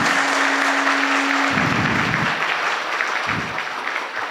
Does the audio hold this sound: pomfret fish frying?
no